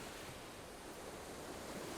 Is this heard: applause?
no